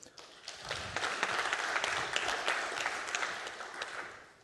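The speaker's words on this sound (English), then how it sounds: "So please give a round of applause to Peter Hendy" Audience applause at a transport innovation talk session, a dense and fairly quiet patter of clapping that holds steady for several seconds.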